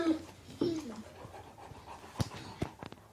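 A large dog, a Great Pyrenees or Greater Swiss Mountain Dog, pants heavily up close with a few short whimpers, while people talk quietly in the background.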